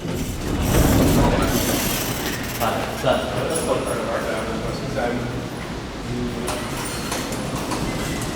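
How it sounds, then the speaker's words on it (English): A Schindler Haughton traction elevator runs at an office plaza, its cab mechanism producing a steady mechanical whir and rattle with occasional clicks, close by and continuous under intermittent talking. "This is a nice elevator."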